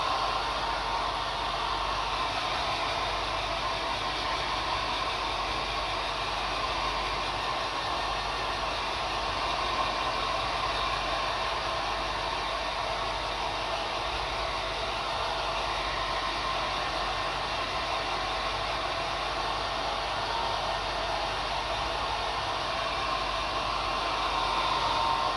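A hair dryer blows steadily and loudly for the whole stretch, drying a watercolor coastal landscape painting with an unbroken whooshing hiss and no talk.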